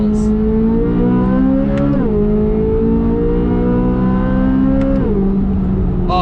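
A 2024 Chevrolet Corvette Z06 engine roars loudly at high revs, climbing through a gear, dipping briefly at each shift and climbing again, close and continuous.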